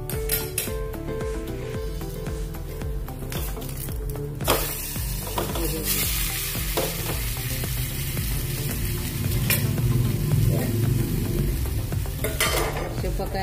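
Food sizzles steadily in a hot pan while a utensil scrapes and clinks against the metal in irregular strokes, close and moderately loud, with no speech.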